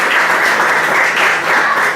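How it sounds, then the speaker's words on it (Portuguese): A church congregation claps together in praise during a service, a loud, continuous wash of many hands applauding that swells and falls slightly, filling the whole moment without speech. "Uma salva de palmas para Jesus"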